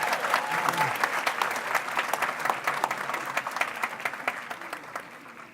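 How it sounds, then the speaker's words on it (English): Banquet audience at a Teacher of the Year celebration giving sustained applause, a full, even roar of many hands clapping that slowly thins toward the end. "Round of applause one more time."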